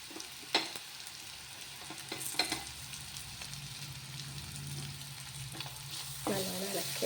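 Fried rice with chicken, egg and capsicum stir-fried in a pan: a soft continuous sizzle with intermittent spatula clacks and scrapes, quiet and close, no speech.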